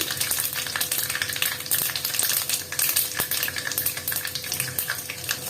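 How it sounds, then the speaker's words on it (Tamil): Mustard, fenugreek and cumin seeds crackle and sizzle in hot oil while cooking fish curry, a steady frying hiss dotted with sharp pops and clicks, close and continuous. "கடுகு போட்டுக்கிறேன். வெந்தயம் போட்டுக்கிறேன். சீரகம் போட்டுக்கிறேன்."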